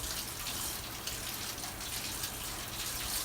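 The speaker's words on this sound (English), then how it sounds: "I would want to wash all the dust and debris away, cleaning up the piece for the last time" Steady running water from a tap rinses sanding dust and debris off a finished piece of dead desert cholla wood, a continuous close splashing wash with no voices.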